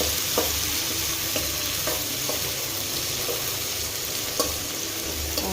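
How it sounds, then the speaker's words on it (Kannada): Green chillies and tomatoes frying in a pan: a constant close hiss of sizzling oil with occasional soft taps of a spoon stirring, no voices. "ಈಗ ನಾನು ಹೇಳಿದೆಲ್ಲ ಹಸಿಮೆಣ್ಸಿನ್ಕಾಯಿ ಮತ್ತು ಟೊಮೆಟೊ ಹಾಕ್ಕೊತಿದ್ದೀನಿ."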